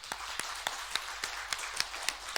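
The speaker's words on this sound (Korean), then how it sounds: "우리 하나님께도 영광의 박수 한번 올려드리시죠" A church congregation claps steadily together during a Sunday worship service, a dense, even patter of many hands with a regular pulse of sharper accents, loud and continuous with no voices over it.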